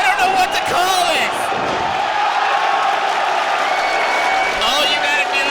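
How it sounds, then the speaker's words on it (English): Wrestling arena crowd roars, cheers and claps in a sustained wash of noise, with whoops rising above it and a commentator talking over it. "All you gotta do is listen to this crowd right now."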